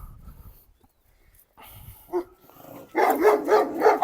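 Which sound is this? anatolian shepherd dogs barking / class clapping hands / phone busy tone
anatolian shepherd dogs barking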